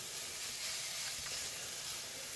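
Burger patties topped with fried eggs sizzle over bacon and onions in a pan or griddle, giving a steady, close crackling hiss that runs unbroken and alone.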